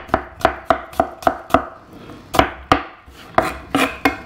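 A large garlic clove being chopped with a knife on a board in a kitchen, a close, crisp series of about fourteen quick knife taps in an uneven rhythm, with no talking.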